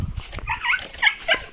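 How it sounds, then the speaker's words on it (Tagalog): A farm dog whimpers and yips in short, high, whining bursts close by, several rising cries over about a second and a half, with faint rustling underneath. "yan si Tumi yung aso ni Tatay Juan"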